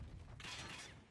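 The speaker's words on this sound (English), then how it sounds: "Changing mag." Call of Duty Mobile magazine reload, a quick metallic clatter and click of the mag being swapped, faint and brief over low background rumble.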